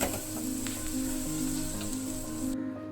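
Chicken fries in a hot pan, a steady close sizzle with soft crackles and faint stirring, cutting off abruptly at the end.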